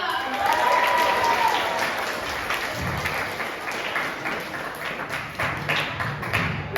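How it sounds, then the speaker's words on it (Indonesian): Audience at an art and dance talk event clapping together, a steady dense applause close by with a brief tonal ping early on and some murmured voices mixed in. "Tepuk tangan dong."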